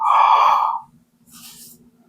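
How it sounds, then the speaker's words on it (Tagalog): A person with a jaw problem gives a yawn: a loud voiced, drawn-out groan that fades, then a short breathy exhale after a brief pause. "pag hihikab tayo"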